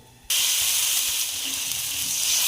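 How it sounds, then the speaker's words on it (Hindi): Milk poured into a hot pan of browned semolina for egg halwa, bursting into a loud, steady steaming hiss after a brief quiet start and holding for the rest of the clip. "तो सूजी हमारी अच्छे से ब्राउन हो चुकी है। इसमें डालेंगे दूध।"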